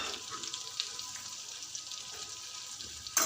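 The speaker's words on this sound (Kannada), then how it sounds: "ಜೀರಿಗೆನ ಚೆನ್ನಾಗಿ ಸ್ವಲ್ಪ ಫ್ರೈ ಮಾಡ್ಕೊಳ್ಳಿ." Cumin seeds frying in hot oil in a pan, a soft, steady sizzle and faint crackle heard close but quietly, with a sharper clatter at the very end.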